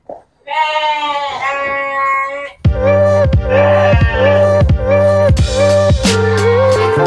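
Several small goats bleat loudly and close by at feeding time, about a dozen young animals sharing one bucket of fermented dry feed; a long wavering bleat opens, then overlapping cries come in a steady repeated rhythm.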